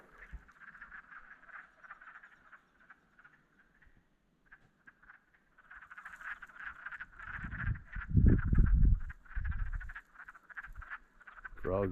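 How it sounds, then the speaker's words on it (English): Frogs croak steadily in a dense nighttime chorus near water, with loud, close bursts of rough croaking toward the end. "Frogs are pretty vocal tonight."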